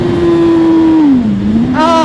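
A BMW S1000 RR sport motorcycle's high-revving engine wails loudly and steadily up close, dipping slightly in pitch before climbing again with a sharp rise near the end.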